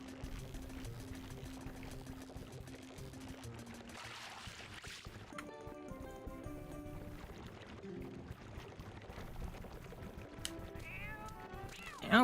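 Cat meowing in The Legend of Zelda: Twilight Princess, faint tonal cries over quiet in-game ambience and music, with a louder sound at the very end.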